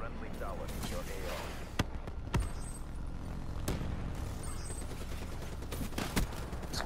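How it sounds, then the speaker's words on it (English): Gunfire and sentry-gun fire in Call of Duty: Black Ops 3 multiplayer on PS4: scattered sharp shots and short bursts crack through a busy game mix with a steady low rumble. "you can't shoot at me and a sentry gun at the same time"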